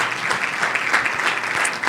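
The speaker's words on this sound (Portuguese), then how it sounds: "Nós aplaudimos o Teu nome," Steady applause from a congregation at a youth retreat worship service, with many hands clapping in a dense, even wash over a short stretch.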